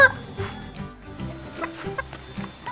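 Chickens cluck close by in short irregular bursts, several quick calls scattered over a quiet background.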